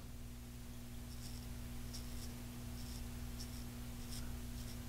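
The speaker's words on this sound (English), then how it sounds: "We're just gonna cut the sideburn." Feather DX Artist Club Japanese-style straight razor with a professional blade shaving a sideburn: a series of soft, short scraping strokes, about six in a loose rhythm, close up over steady background hum.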